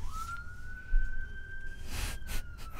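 Emergency vehicle sirens outside, a single steady wailing tone holding for a couple of seconds before fading, distant and faint under a low background hum.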